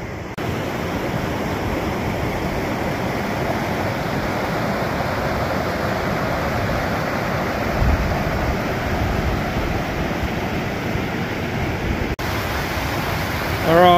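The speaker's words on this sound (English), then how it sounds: "Dunlop Station, Weir on the Darling River." Water rushes over Dunlop Weir on the Darling River with a loud, continuous broadband roar, steady throughout and close by, with brief bumps near the end.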